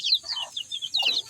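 Backyard chickens with newly hatched chicks: close, high-pitched peeping chirps in quick repeated bursts over soft, low hen clucking.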